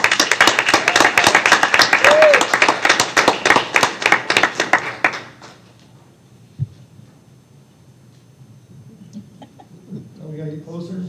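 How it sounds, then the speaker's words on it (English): Applause for students at a school district governing board meeting, a dense burst of many hands clapping for about five seconds that then stops abruptly, leaving quiet room noise with a few faint voices. "and one more round of applause."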